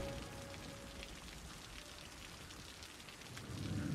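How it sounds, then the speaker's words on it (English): Steady rain in the Cities: Skylines video game, a soft, continuous patter and hiss that holds at an even level throughout and swells slightly near the end. "So rainy as well."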